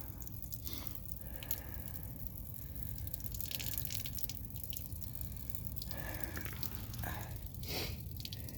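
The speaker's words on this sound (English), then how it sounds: "Look at that water coming out now." Water drains from a motorhome hot water tank in a wet, steady trickle with scattered drips and splashes, faint and close, with no voices.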